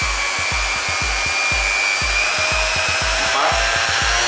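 A Stanley SSS310 half sheet sander runs steadily at close range, its motor drone loud and continuous with a rapid, regular low thumping pulse throughout, no voices.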